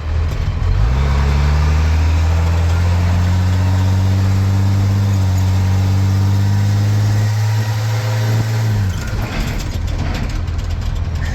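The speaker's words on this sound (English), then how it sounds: "You can hear that turbo when I let off now." A Cummins 5.9 12-valve diesel truck engine runs loud and steady with a clear turbo whine held as a tone, then dropping away as the throttle is released near the end.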